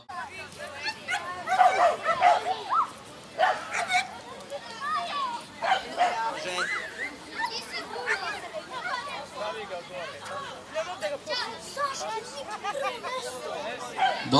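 Dogs bark and yip in short bursts at a child-and-dog contest during the Pudarski dani 2014 festival, mixed into steady crowd chatter and nearby talking.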